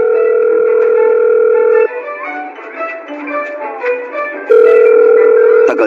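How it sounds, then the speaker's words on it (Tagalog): A phone call ringing tone plays loudly and steadily in long buzzing pulses, with a quieter gap between rings and no voices. "Ayan, nagre-ring na."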